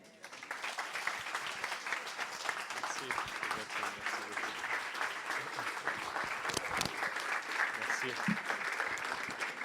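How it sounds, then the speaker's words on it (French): A church congregation claps steadily throughout, heard from some distance, with voices mixed into the applause. "Est-ce qu'on peut faire un plus grand applaudissement pour Jésus?"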